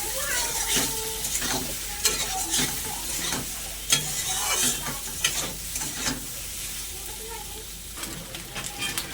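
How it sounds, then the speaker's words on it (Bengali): Egg and soybean chunks sizzle in oil in a kadai while a spatula stirs and scrapes in quick, irregular strokes, close and steady throughout. "সয়াবিনের সঙ্গে ডিমটা আমি ভালো করে ভাজা ভাজা করে নেব।"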